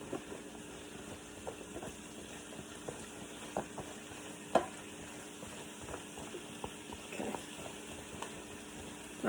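Italian sausage and vegetables fry in a pan with a soft, steady sizzle and scattered small pops and scrapes of stirring, fairly quiet and close, with no talk.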